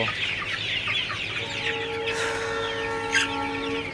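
Sonali chickens gathered together in hot, humid weather cluck and chatter nearby, a busy overlapping run of short calls with a few sharper, louder squawks.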